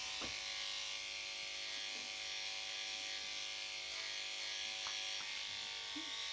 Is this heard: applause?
no